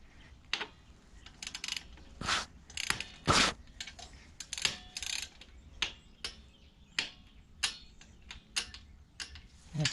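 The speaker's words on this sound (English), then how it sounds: "got the inch-pound torque wrench" An inch-pound torque wrench tightens the stock exhaust bolts on a 2008 Harley-Davidson Sportster 883C, making bursts of crisp ratcheting clicks with brief pauses between strokes, close up and fairly quiet.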